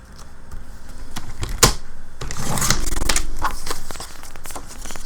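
Paper being cut to width for a notepad cover: a steady papery rustle and scraping throughout, with a sharp snap near the start and a broader cutting swish in the middle, close and fairly loud.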